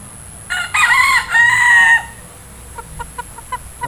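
A Peruvian rooster crows once, loud and close, in a long harmonic call lasting about a second and a half, followed by several short, quieter clucks at a steady pace.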